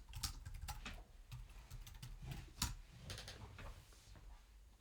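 Typing on a computer keyboard with scattered, fairly quiet key taps in an irregular rhythm, some quick runs and a slightly louder clack, no talking.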